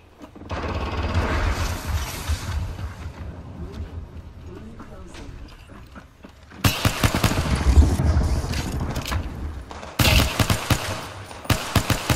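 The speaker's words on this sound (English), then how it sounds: "so I can shoot you with my pistol" Pistol gunfire from a P2020 in an Apex Legends-style shooter, with rapid bursts of shots and impacts in the second half over game ambience; a player talks throughout.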